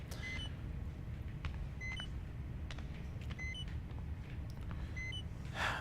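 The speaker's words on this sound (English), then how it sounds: "Man, okay, I hear you beeping." Short electronic beeps in the video game Outlast: Whistleblower repeat in small clusters of rising tones, fairly faint, over a low hum and scattered clicks.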